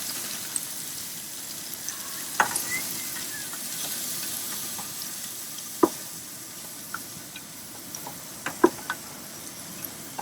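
Chopped onions for clam chowder frying in a pot, giving a soft steady sizzle with scattered sharp ticks and pops from stirring.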